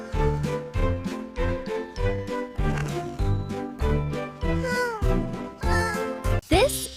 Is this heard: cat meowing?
yes